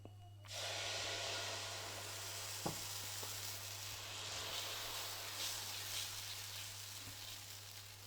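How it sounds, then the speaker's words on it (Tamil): Hot tawa hissing as dosa batter made with drumstick leaves (murungai keerai) is poured on, a soft, steady sizzle that starts suddenly and continues, with a faint low hum underneath and a small tap partway through. "இப்போ வந்து டவா நல்லா காஞ்சிச்சு நம்ம தோசை ஊற்றலாம்"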